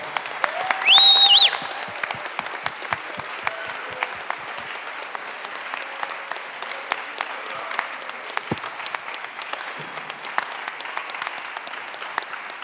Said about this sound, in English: Would you please give them a loud round of applause?